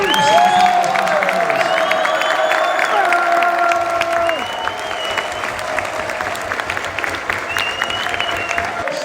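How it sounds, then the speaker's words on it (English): A crowd applauds and cheers award winners at a Millwall PDL champions celebration, with loud sustained clapping and a few whoops and whistle-like tones, easing slightly partway through. "a big round of applause for Kevin Nugent, Paul Robinson."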